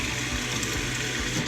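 Water rushing through the plumbing lines of an Airstream travel trailer into its hot water tank during a chlorine flush, a steady hissing flow heard up close and fairly quiet.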